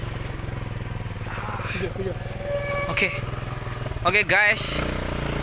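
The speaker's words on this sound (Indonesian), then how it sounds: "kita akan melihat bagaimana motor trail ini melewati tantangan ini" A trail motorcycle climbing a forest hill track, its engine putting along close by with a loud burst of revving near the end, while someone speaks briefly.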